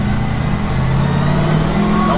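A 1966 Chevy C10 pickup truck engine idling as the truck rolls slowly around the block, a steady loud low rumble with a constant hum throughout.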